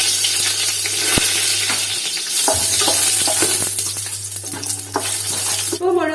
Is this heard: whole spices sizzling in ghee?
yes